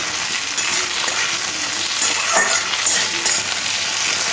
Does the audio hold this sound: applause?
no